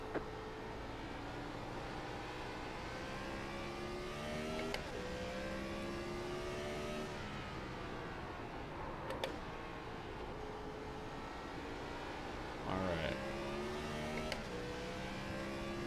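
A Gen 4 stock race car laps Martinsville alone in a racing game, its V8 engine rising and falling in pitch as it brakes into the corners and accelerates out. One brief spoken word sits over the steady roar.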